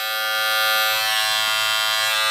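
Wahl Cordless Detailer Li lithium-ion edge-up trimmer running steadily, a close, even electric buzz with a bright high whine and no talk.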